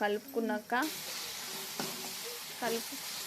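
Spiced onion and chili-powder mixture for egg fry stirred in a hot pan, a continuous sizzle with occasional scraping strokes of a spoon, while someone talks over it at the start and intermittently.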